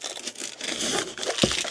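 Protective plastic film peels off parts of a Samsung WindowFit 2 window air conditioner with a busy crinkling rustle throughout, ending in a sharper crackling snap near the close.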